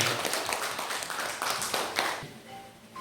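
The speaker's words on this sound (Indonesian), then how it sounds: "Tepuk tangan Bapak Ibu" Audience of teachers clapping hands at a school event, brisk uneven claps for about two seconds, then fading into quieter tapping and room noise.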